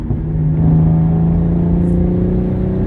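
A Genesis Coupe fitted with rigid collars and subframe bushing shims accelerates smoothly on the road, its engine a steady, loud low drone with rising tonal whine, continuous and close throughout.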